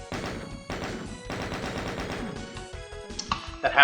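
Zombie chaingunners in DOOM fire rapid bursts of automatic gunfire, loud and close, in several dense volleys with brief gaps, ending in sharper game effects.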